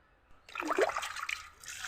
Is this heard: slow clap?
no